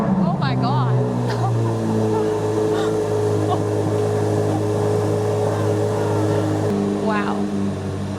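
A 2025 Chevrolet Corvette C8 Z06 engine idles loud and close while parked, holding a strong steady drone with a throttle blip early and a shift in pitch near the end, as a person talks over it.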